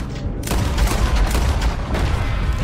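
Pistol shots ring out in a Red Dead Redemption 2 shootout, a dense run of loud, sharp reports following a brief quiet opening and continuing steadily to the end.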